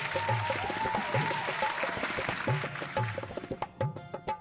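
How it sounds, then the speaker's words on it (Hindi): An audience claps steadily to welcome poet Sunil Jogi on stage at a Holi poetry event, a thick patter of applause with a few sharper, isolated claps as it thins toward the end. "तालियों के साथ स्वागत होना चाहिए सुनील जी का।"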